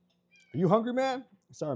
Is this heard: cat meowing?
yes